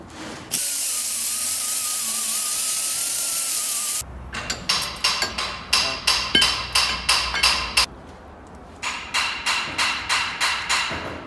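Brake lathe resurfacing a brake rotor: a steady high-pitched cutting whine for several seconds, then a run of rhythmic repeated tool strikes and scraping pulses.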